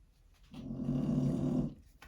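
One long, rumbling snore lasts over a second, close and fairly loud, with quiet breathing before and after.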